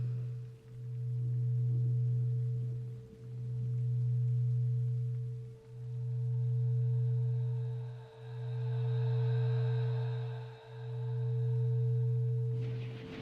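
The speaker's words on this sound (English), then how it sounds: "Binaural beats work by sending two slightly different tones into each ear." Binaural beats: two slightly different steady low tones sustained together, swelling and fading in long even pulses about every two and a half seconds, with a faint high drone above and no voices.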